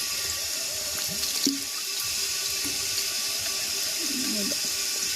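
Water poured slowly over pitha rice cakes cooking in a village kitchen: a steady splashing, running-water wash close by, with a few soft clinks and bubbling gurgles.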